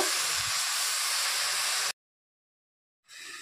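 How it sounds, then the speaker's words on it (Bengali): Jute greens tipped into a hot wok, giving a loud broad steamy hiss that holds steady, cuts out abruptly, then returns as a softer sizzle. "এর মধ্যে শাকগুলো ঢেলে দেব"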